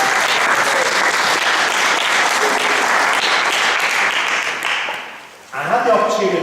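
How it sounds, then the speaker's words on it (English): A loud, sustained round of audience applause welcomes two senior synagogue members, dense clapping that fades briefly near the end before a fresh burst of claps. "if we give them a round of applause to help them to feel welcome."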